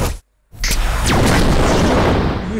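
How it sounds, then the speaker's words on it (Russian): A grenade launcher fires in the Teenage Mutant Ninja Turtles Legends mobile game: a short gap of silence, then a loud, heavy boom that rolls into a sustained rumbling blast with a whistling streak through it. "Он выстрелил из гранатомета."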